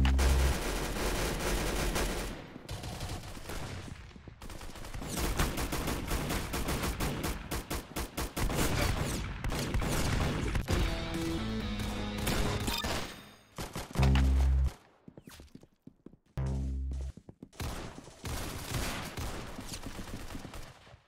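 Rapid gunfire from the video game Clown Infection rattles in dense, loud bursts of automatic shots, broken by brief pauses and a few heavy booming hits.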